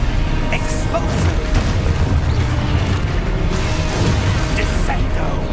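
An explosion spell cast in the Hogwarts Legacy video game produces a dense, sustained booming rumble with crackling bursts layered over it, loud and continuous throughout.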